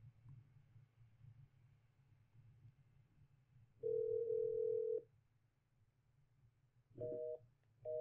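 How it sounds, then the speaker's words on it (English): Telephone busy signal on a call to an unconfigured business number: a steady tone burst about a second long, then shorter repeating tone pulses after a pause, over a low background hum. "I got a busy signal"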